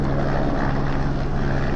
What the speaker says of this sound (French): Petite livraison d'hélicoptère.